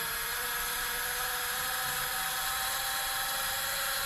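Small repaired Eachine E120 RC helicopter motor running on the bench, a steady high-pitched electric whine held at constant speed throughout, close and fairly loud, with no talk.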